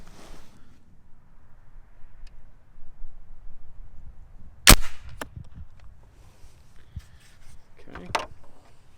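An Umarex AirJavelin CO2-powered air archery rifle fires one sharp, loud crack midway through, and a second softer shot comes near the end. Quiet room noise and faint handling sounds fill the gaps.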